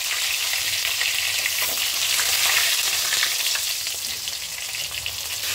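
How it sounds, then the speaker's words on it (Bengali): Pieces of beef roast sizzle and fry in hot oil, a dense steady crackle close up with occasional stirring, no voices. "রোস্টগুলো ভাজা হয়ে গিয়েছে এই তেলের ভিতরে"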